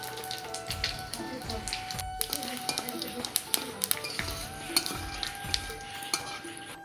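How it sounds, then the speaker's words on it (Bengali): Whole spices, dried red chillies and bay leaves crackle and sizzle in hot mustard oil for a tempering, with metal utensil clinks and stirring scrapes while a person talks over the cooking. "ফোড়নের জন্য দিব সরষের তেল, শুকনো লঙ্কা, তেজপাতা,"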